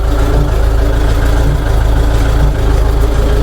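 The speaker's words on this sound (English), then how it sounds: "The first thing I want to do is get my engine RPM up a little." A tractor engine with a PTO-driven mower runs steadily with a low, droning rumble and the whir of the mower, loud and close throughout with no talking.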